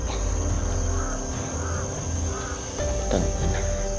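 Crow caws ring out several times at moderate distance in the Philippines, harsh calls rising over a steady background of insect buzz and low hum.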